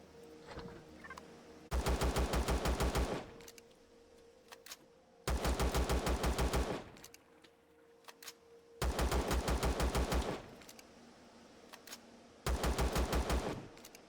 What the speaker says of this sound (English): Let's take a look at the assault rifle.